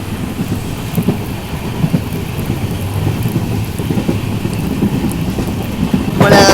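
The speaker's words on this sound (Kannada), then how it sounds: "ಏನು ಜೋರು ಐತ್ರಿಪ್ಪ ಇಲ್ಲಿ ಮಳೆ" Heavy monsoon rain drums steadily against a Vistadome train coach on the Sakleshpur to Subramanya line, mixed with the low rumble of the moving train. A brief louder splash comes near the end.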